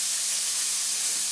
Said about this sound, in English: the water, as you can see, is now steaming. It's boiling.